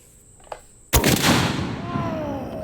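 A huge anti-tank rifle firing a single booming shot, close and very loud, with a long rolling echo trailing off afterward, preceded by a faint click.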